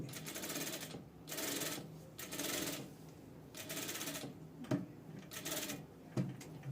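A sewing machine stitches a blouse in short bursts of rapid mechanical whirring, stopping and starting several times, quiet and close, with small clicks between runs.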